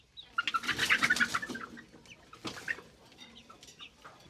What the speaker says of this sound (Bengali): মুরগি, বাবা কত মুরগি!